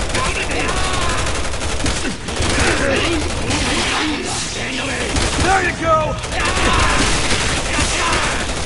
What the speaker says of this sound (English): I'm taking a little fire here!